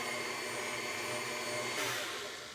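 A stand mixer runs on medium speed beating large eggs for tea cakes, giving a close, loud, steady motor whir that holds throughout with only a slight shift near the end.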